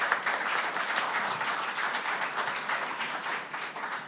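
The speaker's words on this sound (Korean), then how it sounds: "큰 박수 부탁드리겠습니다" Audience at a party convention applauding, a dense steady wash of many hands clapping that fills the hall without a break, moderately loud and undisturbed by speech.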